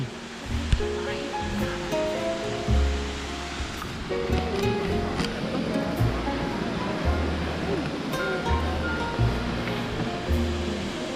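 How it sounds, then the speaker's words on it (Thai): The powerful Jok Kradin waterfall in Kanchanaburi, Thailand, roars continuously nearby, a dense rushing wash of water, with a voice speaking Thai over it at times. "น้ำตกจักกระดิ่ง โอ้ น้ำแรง"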